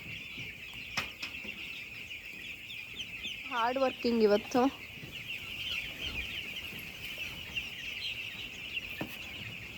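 A chicken farm interior with a steady high electrical hum, likely fans or equipment running once power returns; a short burst of clucking rises midway, and faint voices talk in the background.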